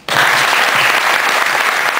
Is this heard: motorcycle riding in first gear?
no